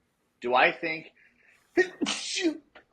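A single sharp human sneeze bursts out close by, bracketed by casual conversational speech before and after it.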